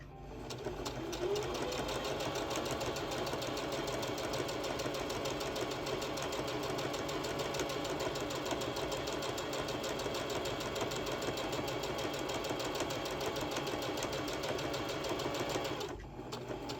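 A sewing machine runs steadily while stitching a seam on an over-the-shoulder stuff holder, a continuous close mechanical whir lasting about sixteen seconds before stopping at the end.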